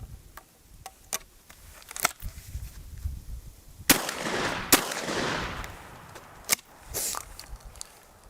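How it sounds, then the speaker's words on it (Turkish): A D-Doxcarms DP-26 over-under shotgun is test fired with slugs. Several sharp, loud cracks ring out at irregular intervals, a heavier blast with a long rumbling tail comes at the midpoint, and lighter clicks and handling noises fall between them. "Ve tek kurşunla test atışını yapıyoruz."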